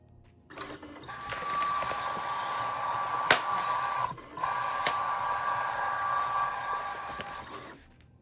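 A Siser vinyl cutting machine running an area test, moving its carriage with a steady whirring motor tone and mechanical chatter, pausing briefly midway before resuming, then stopping; close and alone.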